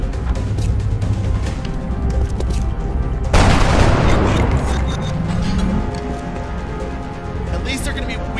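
Frag grenade blast in XCOM Enemy Within: a sudden loud explosion bursts midway, followed by scattered gunfire and rumbling debris, all layered under a steady game soundtrack and occasional voices.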